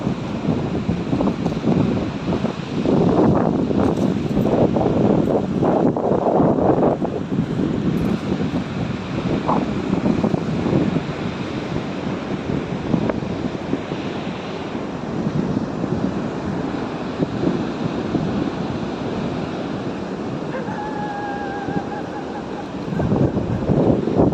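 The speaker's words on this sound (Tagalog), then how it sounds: "Ganda ng simoy ng hangin dito sa tabing dagat, sariwang sariwa" Steady wind buffets the microphone by the sea at a resort in Santa Isabel, with a constant low roar of surf underneath, loud and continuous throughout.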